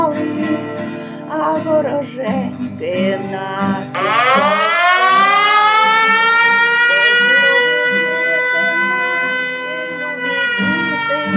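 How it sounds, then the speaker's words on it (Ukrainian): A loud Ukrainian air raid siren winds up and holds a long, wailing tone, preceded by a voice announcing the air raid alert in Ukrainian over a public address. "Повітряна тривога. Пройдіть в найближче укриття."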